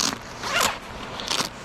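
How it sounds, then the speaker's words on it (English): A motorcycle jacket being unzipped, worn while commuting in freezing weather on an NC 750X DCT, two or three close, raspy zipper pulls in quick succession. "Unzip it all the way."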